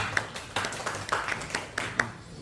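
A small audience at the close of a public hearing claps briefly, a thin scattering of individual hand claps with uneven rhythm, fairly faint and close.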